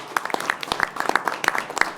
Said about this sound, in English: One more round of applause for all of them.